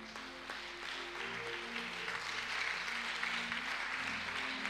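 A church congregation claps together through a worship service, with steady, dense applause that holds at an even level and swells slightly toward the end, with no voices heard.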